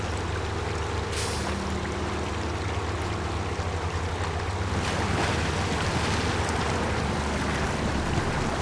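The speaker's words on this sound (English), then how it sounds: "Get some speed up and see if we can get across most of the river." A truck in SnowRunner, set in Maine, fords a river: a steady wash of rushing water and low engine rumble, with a splashing surge partway through, heard alone without talk.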